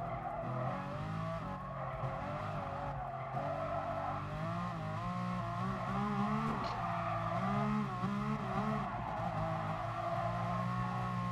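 A Ferrari F50 racing in Gran Turismo Sport, its high engine whine rising and falling through a corner with braking, shifting pitch and steady tire noise, loud and continuous without talk.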